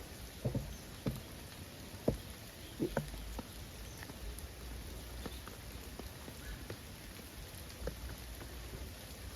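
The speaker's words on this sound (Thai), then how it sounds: "ฝนก็ตกนะทุกคน" Steady rain patters on foliage and ground, with scattered louder drops and a low rumble beneath, no voices.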